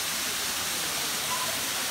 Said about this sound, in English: Waterfall, little pond.